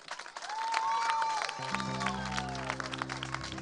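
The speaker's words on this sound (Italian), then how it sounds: "E un applauso lo farei alla nostra prima finalista." A crowd applauds a finalist at a Miss Italia beauty pageant event. Dense clapping rises at the start and continues under sustained musical tones, with voices mixed in.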